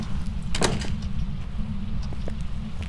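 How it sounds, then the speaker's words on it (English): Door closing in the Phasmophobia ghost-hunting game inside the Tanglewood Street house, a single short thud over a constant low rumbling hum, with a few faint clicks afterward. "We're going to close this door."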